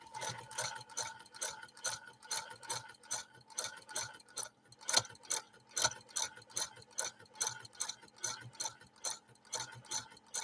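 A 1948 Frister & Rossmann sewing machine stitches in a steady rapid rhythm, each mechanical clack repeating evenly at close range with one louder knock midway, no voices.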